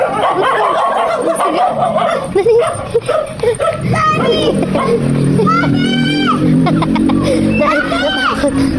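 Dogs bark and yip in short bursts amid loud, overlapping chatter from a crowd including children.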